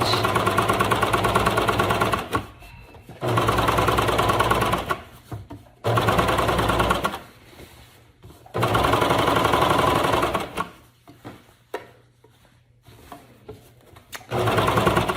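A sewing machine top stitching along a seam of flare leggings runs in steady mechanical bursts of a few seconds each, stopping and starting with short quiet pauses between runs.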